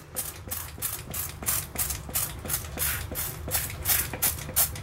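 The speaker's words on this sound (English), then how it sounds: "Just going to spray it down real good" Repeated squirts from a plain squirt bottle spraying a white vinegar and water mixture, about ten evenly spaced bursts of hissing spray in a steady rhythm, close and moderately loud with no talking.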